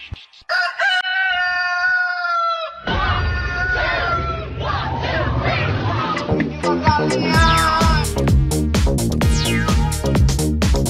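A rooster crows loudly at the start, then a dense, rhythmic burst of clucking and squawking chickens builds over a steady pulsing beat, the birds crowding together and growing louder toward the end.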